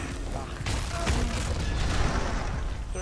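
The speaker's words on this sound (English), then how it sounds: "First explosion is pretty good" Bomb blast in the game Lara Croft and the Guardian of Light, a dense rumbling boom under loud game noise and a talking voice.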